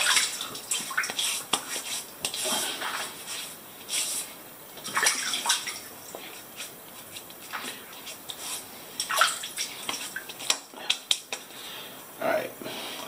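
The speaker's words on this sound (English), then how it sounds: "So we'll start off by getting the face wet." Tap water runs and splashes while a face is wetted before a wet shave, a continuous uneven splashing with bursts of cupped water, close and steady throughout.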